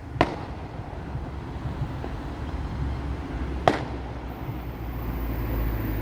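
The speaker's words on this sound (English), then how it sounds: "It's kind of fireworks." Outdoors, two far-off fireworks pop about three seconds apart as sharp, faint cracks above a constant low ambient hum.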